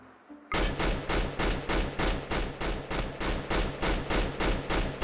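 A perimeter-mounted gun turret in RimWorld opens fire after a brief quiet moment, loosing a steady, loud stream of rapid shots, roughly three or four per second, that continues to the end.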